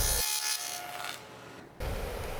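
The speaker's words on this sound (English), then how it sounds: "Using the dado blade to cut a little rabbet in the back for the back panel." A dado blade on a saw cuts a rabbet into wood for a dresser back panel, a loud steady whirring rasp that dips midway and then surges back as the wood is fed through.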